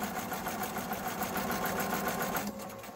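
A sewing machine runs steadily, stitching quilt fabric with a close, even mechanical whir that eases off just before the end.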